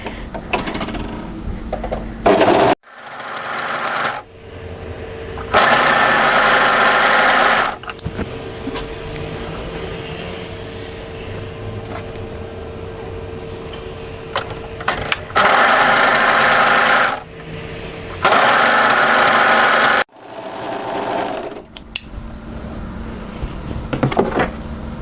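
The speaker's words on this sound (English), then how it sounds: "I'm going to overlock these from the bottom up because I think it's a little bit easier" An overlocker sews the pocket seams of a sweatshirt in several loud, whirring bursts of a few seconds each, separated by quieter pauses.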